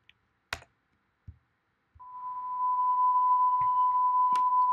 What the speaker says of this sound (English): we are due for a shrill beep